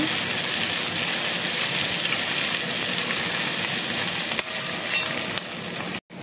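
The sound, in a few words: ginger frying in pan for eggplant tomato curry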